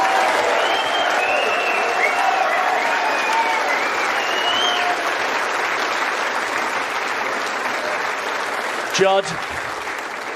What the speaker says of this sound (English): may we have a round of applause for an absolutely brilliant final